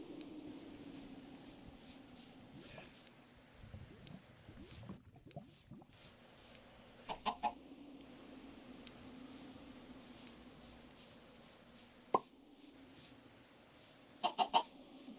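Minecraft chickens cluck in short, scattered bursts over a quiet game backdrop, with a few clustered clucks and soft footsteps or item sounds between them.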